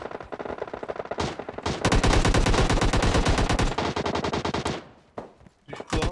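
Rapid automatic gunfire in the mobile battle-royale game PUBG Mobile, loud and sustained bursts of closely spaced shots that briefly stop near the end before resuming.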